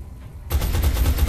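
Sudden burst of gunfire in the XCOM turn-based strategy game, starting abruptly after a brief quiet moment and continuing as loud, rapid overlapping shots.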